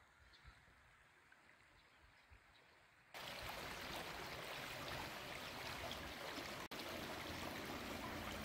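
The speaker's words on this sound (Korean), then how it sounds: "시냇물이 졸졸졸졸 소리도 예쁘네요." A small stream trickles across from a roadside by a riverside camping ground where people fish and camp, a steady close-up babble of water filling the scene after a quieter opening, with a brief dropout near the end.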